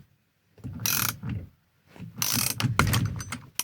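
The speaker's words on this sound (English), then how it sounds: "and this will start to pull the steering wheel off." A steering wheel puller being tightened on a squarebody truck, heard as two close bursts of rapid ratchet clicks with a short pause between them, no talk.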